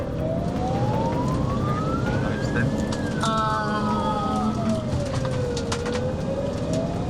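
An ambulance siren wails, sweeping up and down in pitch over steady road and engine rumble, loud and continuous throughout.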